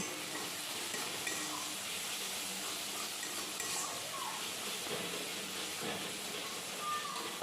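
Onions with turmeric and salt sizzle steadily in a pan while being stirred, a constant frying hiss with soft scraping throughout, ahead of adding fried potatoes and spring onions for a mustard-paste parshe fish dish.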